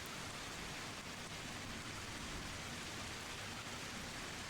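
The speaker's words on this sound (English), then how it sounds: "Rain continues to pour." Steady, dense rain pouring down outdoors by a lakeside camp, a continuous even hiss with no breaks, fairly faint and without voices.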